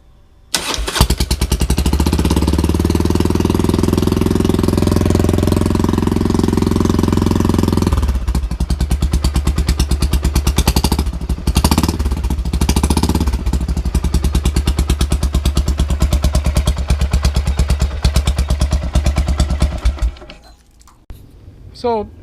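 A motorcycle engine runs loud and close, revving hard for several seconds, then settling into a steady rough run before cutting off near the end.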